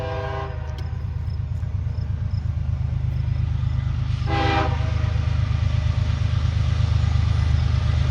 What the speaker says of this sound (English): This train is M558 going to Willard,